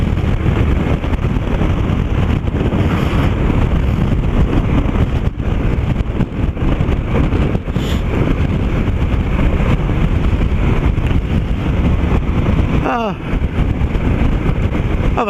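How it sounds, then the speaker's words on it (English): Strong wind roars and buffets steadily at a rider's microphone on a motorcycle trip in high winds, loud and constant, with a person talking over it throughout. "Now this is where the wind could catch you out."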